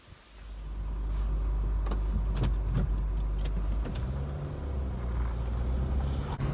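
Cabin of a moving car, a steady low road rumble with scattered clicks and small knocks from inside the interior, rising in the first second and then holding level.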